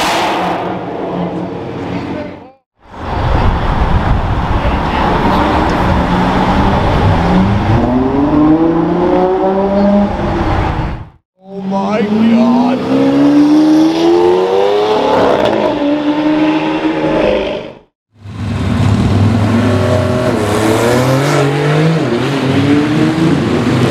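Lexus LFA supercar V10 revved hard at a supercar meet, with three loud, close bursts of sharp rising and falling revs separated by brief pauses.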